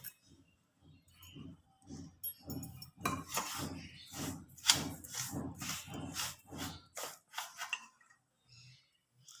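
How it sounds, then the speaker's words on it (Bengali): Uttapam batter mixed in a bowl with sugar, giving a steady run of soft rhythmic spoon clinks and scrapes against the bowl, fairly faint and close, with no voices. "এরপর এটাকে ভালো করে মিশিয়ে নেব।"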